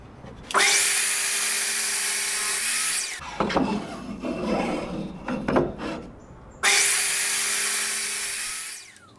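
Wood being cut to length with a saw for a DIY bottle lamp: two long, loud stretches of steady sawing with a brief quieter gap of rough rasping and handling between them.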